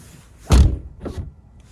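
An electric Mini's frosted car door opens with a heavy thunk as it unsticks, followed by a softer second thud, close and loud with no voices.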